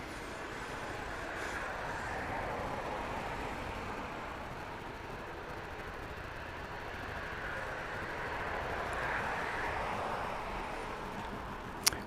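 An airplane takes off from the runway at Grand Cayman, producing a steady, loud broadband roar that lasts throughout and swells slightly near the end.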